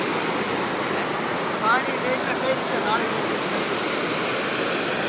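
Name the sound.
rushing Bhadar river water after rain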